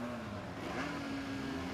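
Modified or late model race cars running in the pits at Midvale Speedway, a steady engine drone carrying from some distance with a slight rise in pitch partway through.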